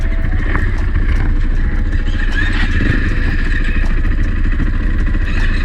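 A KTM 500EXC dirt bike engine runs loud and close while the bike is turned around, a steady rough drone that never lets up across the whole stretch.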